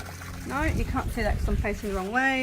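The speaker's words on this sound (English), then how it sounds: "you can probably hear the waterfall in the background" A backyard waterfall built by the husband splashes steadily in the background, a soft continuous wash of water running beneath someone talking outdoors.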